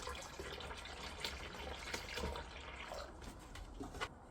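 Water is poured to fill the tank of a homemade liquid air engine, a faint, continuous splashing trickle with no talk.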